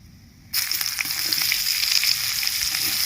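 Sliced onions and a dried red chilli hit hot oil in a kadai (wok) and break into a sudden, loud, steady sizzle that continues close up and unbroken, with no voices.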